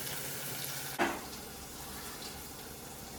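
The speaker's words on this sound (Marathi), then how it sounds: "चला तो शिजू द्या टोमॅटो" Tomatoes drop into a hot pan with a sudden soft splash, then settle into a quiet, steady sizzle as they cook.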